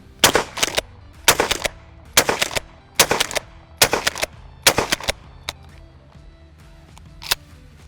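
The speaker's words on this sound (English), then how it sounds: "we're gonna break out the 12 gauge, break out some buckshot" A 12 gauge shotgun fires buckshot outdoors in a rapid series of loud, sharp blasts, roughly six clustered reports followed by a few fainter, sparser shots, each with a short echo tail.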